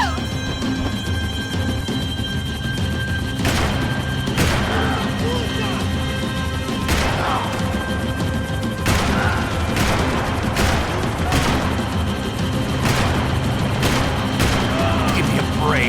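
Gunshots in a detective video game, a series of sharp, loud bangs spaced irregularly over a rumbling engine-like background, with voices talking throughout.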